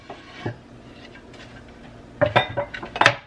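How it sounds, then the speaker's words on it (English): A brief rattling clatter as small hard pieces tumble into a bowl, coming in a few quick bursts after a quiet pause. "I'm going to dump these chickpeas into the bowl"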